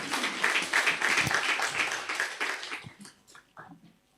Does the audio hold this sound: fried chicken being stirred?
no